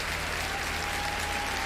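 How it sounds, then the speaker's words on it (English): Steady broadband applause, a dense continuous wash of clapping at moderate level, heard during a Farming Simulator 22 livestream, with no voices over it. "Thompson Gaming, big old round of applause."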